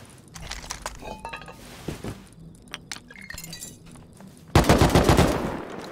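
Gunfire in the video game Rust: scattered sharp shots and metallic clinks, then a loud burst of rapid, closely spaced blasts near the end, with no talk.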